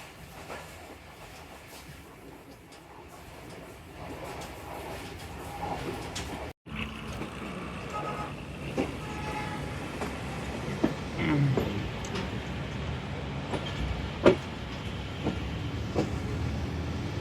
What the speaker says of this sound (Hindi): अभी हम एंटर हो रहे हैं फैसलाबाद स्टेशन पे